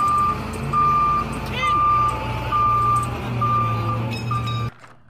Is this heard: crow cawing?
no